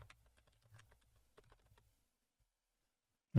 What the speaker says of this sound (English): I'm typing this into a Google Doc.